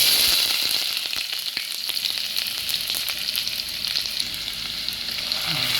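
Ginger sautéing in a generous pool of hot cooking oil for Filipino bopis, a steady close sizzle and crackle with scattered pops throughout, no voices.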